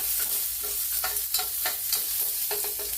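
Spices tempering in hot ghee for a Tamil herbal rasam, with dried red chillies and curry leaves going in. A continuous close, loud sizzle and crackle is broken by small popping bursts and stirring.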